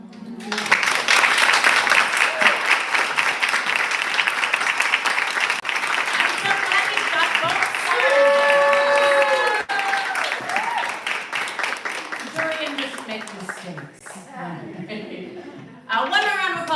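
Sustained audience applause at an evening poetry reading, following the open mic readers, steady and full for most of the stretch with a voice speaking over it toward the end.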